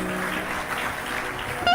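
Audience clapping at a Hindi spiritual discourse, a brief steady burst of applause from a crowd, fairly loud and continuous.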